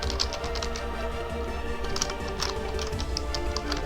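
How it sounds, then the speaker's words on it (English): Code being typed on a computer keyboard, heard as a steady, continuous run of quick, light key clicks at close range with no pauses and no speech. "We are going to type a first bit of code"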